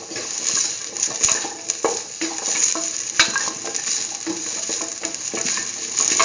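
Shallots sauté in a pan as they are stirred, giving a close, busy sizzle broken by irregular scraping and clinking of the utensil against the pan, with no talking.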